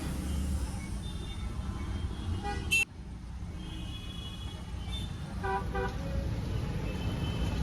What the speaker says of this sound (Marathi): पुण्यात आलोय आणि ट्रॅफिक नाही असं कधी होणार नाही.